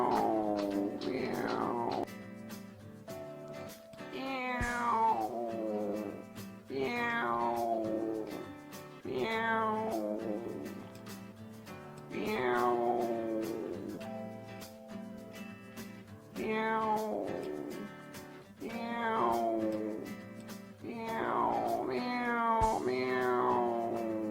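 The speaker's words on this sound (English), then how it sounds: "hey, there's a cat stuck in a tree over there" Repeated drawn-out cat meows, about a dozen in steady succession, each rising then falling in pitch, loud and close with short pauses between.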